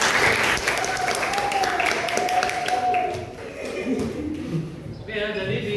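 An audience claps in a room, a dense burst of applause that carries on for several seconds and thins out toward the end, with a voice speaking over it.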